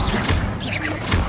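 A Confringo blasting spell hits in the Hogwarts Legacy video game, giving a loud crashing burst with whooshing debris that fills the moment, close and dense.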